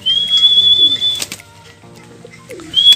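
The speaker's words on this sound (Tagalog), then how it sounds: "Gandang ibon." Pigeon in a backyard loft, a three-time street-fight winner, giving soft low coos at the start and again near the end, with a few brief wing flutters in between.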